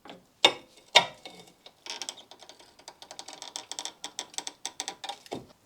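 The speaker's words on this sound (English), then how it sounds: "I'm going to get a lever bar in here, lever against the brake disc, pulling the caliper this way and pushing the piston back" A lever bar pries the brake caliper piston back against the disc on a front brake of an NC Mazda MX-5 Miata, giving two sharp metallic clunks followed by a fast series of small ratcheting clicks and scrapes, close and moderately loud.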